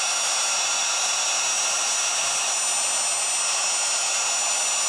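A heat gun blows steadily on heat shrink tubing over a freshly soldered wire during a Ford F-150 door ajar repair, giving an even, close, unbroken hiss with no pauses.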